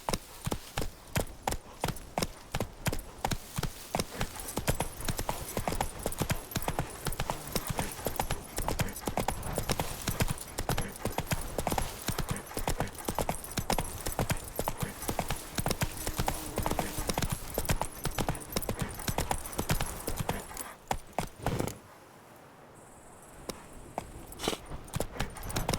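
Hooves of the horse Roach clip-clop in a fast steady rhythm on the ground in The Witcher 3, close and continuous for over twenty seconds before briefly stopping and resuming.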